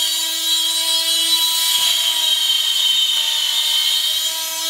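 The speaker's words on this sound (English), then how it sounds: "still grinding at that tack weld" An angle grinder works at a tack weld during a camper fireplace install, giving a loud, continuous high-pitched whine with a steady tone, close and unbroken throughout, with no talk.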